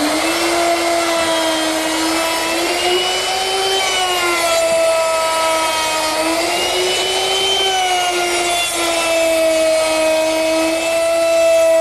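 Router fitted with a 1/2 inch round-over bit rounding the edges of a wooden picnic table or saw horse, a loud continuous high whine with rising and falling pitch as the cut load changes, close up and with no talking.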